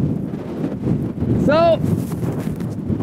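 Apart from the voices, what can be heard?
strong wind in Iceland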